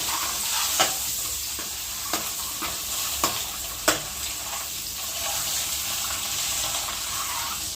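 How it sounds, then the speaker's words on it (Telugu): A constant, fairly loud sizzle of eggs frying in oil, with a few sharp utensil taps scattered over it. "గుడ్లు అయితే వేగినాయి, ప్లేట్లోకి అయితే తీసుకున్నాము."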